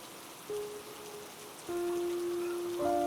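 Rain falling in a horror cartoon story set by a pond: a steady hiss of rain that grows louder partway through, with soft sustained musical tones underneath and no speech.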